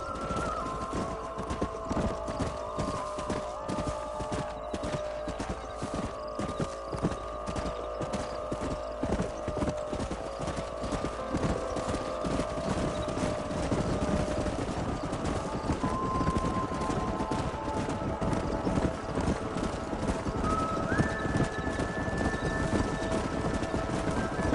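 Steady clip-clop of horse hooves trotting in Red Dead Redemption, with occasional whinnies and a busy rumbling game soundtrack underneath; continuous and fairly loud throughout.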